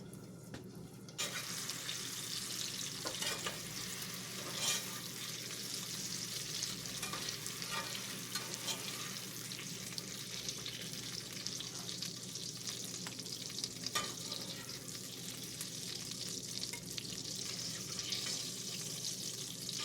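Pumpkin spice keto food cooks in a covered pan, giving a steady, fairly quiet sizzle and crackle that runs throughout with no talking.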